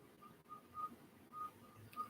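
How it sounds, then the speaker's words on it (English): A whistle sounds faintly from downstairs in a house, a few short thin tones repeating at uneven intervals, distant and soft under low room noise. "think they're playing with like a whistle or something downstairs."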